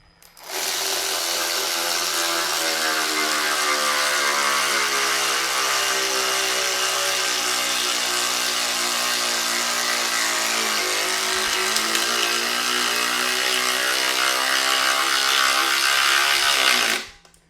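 A Hercules cordless ratchet driving a 5-inch Spax screw, a loud continuous motor whine that slowly drops in pitch as the screw bites deeper, then cuts off abruptly, with no one speaking.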